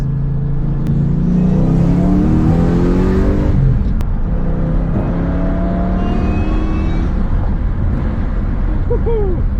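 A supercharged Lexus GS400 engine with a manual gearbox revs hard and accelerates with a rising whine, loud and close, then settles into a steady drone with lighter whirring.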